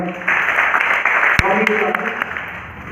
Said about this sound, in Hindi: नीरज जी के लिए जोरदार तालियां